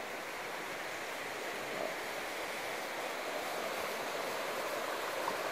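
The Mississagua River flows steadily beside a campsite in the Kawartha Highlands, a constant broad rushing wash of water with no talk.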